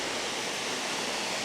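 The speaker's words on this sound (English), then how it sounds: "There's a waterfall cascading in the distance" A waterfall cascades in a Himalayan garden, heard as a steady, dense broadband rush of falling water with no breaks or voices.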